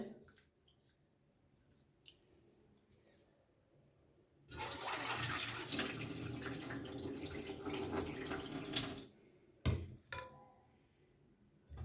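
Rice being washed in a basin for Bengali pithe, with quiet splashing at first, then a loud rush of dirty water poured off for several seconds, followed by a few short splashes and drips nearby.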